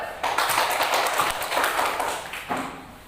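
Schoolchildren in a classroom clapping as a group, a quick burst of many hands that fades, with a few sharp claps standing out near the end.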